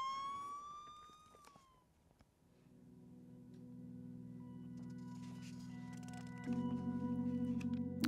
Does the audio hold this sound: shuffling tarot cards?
no